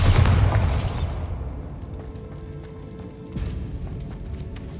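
A Bombarda blast spell in Hogwarts Legacy detonates with one deep, loud boom that rumbles and decays over a second or two, followed by quieter debris and ambient hum, then a smaller secondary thump.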